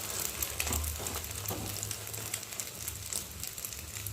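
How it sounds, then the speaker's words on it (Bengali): Eggplant slices fry on a hot tawa for a Bengali begun bhaja, giving a steady, close hiss of sizzling oil with faint crackles throughout and no talking. "এইভাবে ভাজলে দু পিঠেই ভালোভাবে ভাজা হয়"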